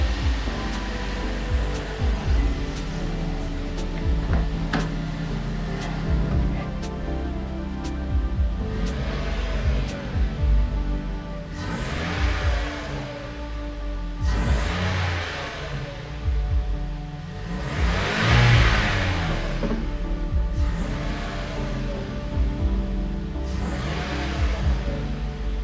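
A Toyota Yaris engine fitted with a cold air intake revs repeatedly, with rising and falling swells over a steady idle drone, heard fairly close with no talking.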